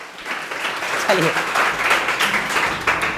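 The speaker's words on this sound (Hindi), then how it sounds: "इसके लिए जोरदार ताली मारिए।" Classroom students clap together during a biology lesson, a continuous moderate burst of hand clapping with a short spoken word from the teacher over it.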